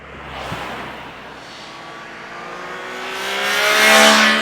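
A 2021 Triumph Trident 660 triple-cylinder motorcycle passes by, its engine note rising as it revs and accelerates, first faint then swelling to a loud, close, rasping whine near the end.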